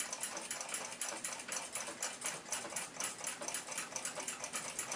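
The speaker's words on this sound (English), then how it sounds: "As I attempt to wind the mainspring, there's just too much resistance." Fast, even ratcheting clicks from the crown of a 1912 Waltham pocket watch as its mainspring is wound against heavy resistance, faint and close, running steadily throughout.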